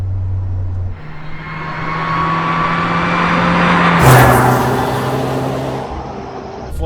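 A Peugeot 309 GTI 16 Dimma accelerates hard from inside the car, its engine note climbing steadily through a gear, with a shift and a surge of loud revving near the end.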